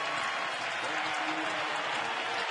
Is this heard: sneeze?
no